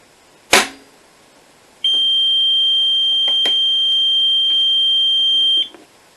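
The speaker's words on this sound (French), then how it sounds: "Hop, alarme DM incendie." Fire alarm set off from a manual call point on a smoke-control demonstration panel: a sharp click or knock, then a loud continuous high-pitched electronic tone that holds steady for about four seconds before cutting off, close by with no talk.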